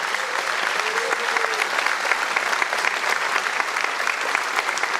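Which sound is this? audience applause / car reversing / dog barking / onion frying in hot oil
audience applause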